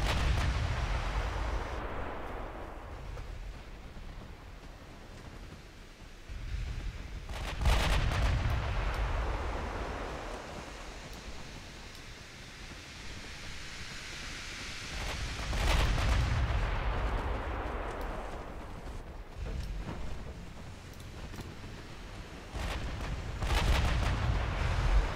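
Naval guns fire at a light cruiser in a video game, giving three or four heavy booming blasts spaced several seconds apart, each followed by a long rolling rumble that fades away.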